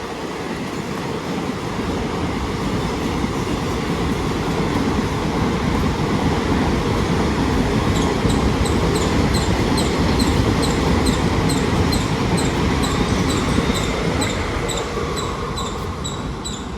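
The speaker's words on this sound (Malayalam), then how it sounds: "മുതലമട റെയിൽവേ സ്റ്റേഷനിൽ ട്രെയിൻ കാണാൻ വേണ്ടി നിൽക്കുകയാണ്" A train rolls through the platform at Muthalamada railway station, a loud, continuous close rumble of wheels and carriages with faint rhythmic rail clicks heard throughout, no voices.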